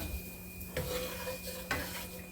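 Onion and celery frying in a pan, stirred with a spoon while making Thanksgiving stuffing; a steady close sizzle runs under two sharp scraping clatters of the spoon against the pan.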